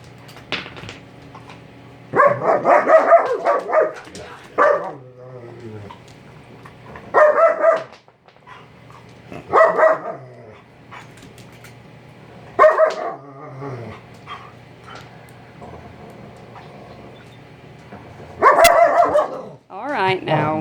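Several house-pack dogs bark in short, loud bursts at a young dog, with growling between the barks and someone talking between the outbursts.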